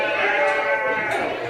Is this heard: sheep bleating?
yes